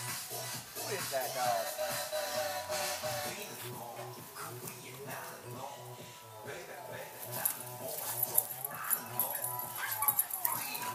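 A small dog whimpers and yips in short, high bursts under a steady music bed and talking, moderately close but partly masked.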